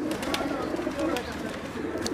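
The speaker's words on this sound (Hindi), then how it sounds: "नीले कबूतर जबरदस्त।" Blue teddy pigeons cooing softly in a loft, a low continuous murmur of overlapping coos close by, with a few faint clicks and rustles and no voices.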